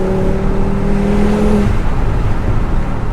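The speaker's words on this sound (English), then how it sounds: "This just sounds like it's a powerful engine." A 516 bhp Audi RS3 engine drones loudly and continuously, a steady tonal hum that fades midway into broadband road and engine roar.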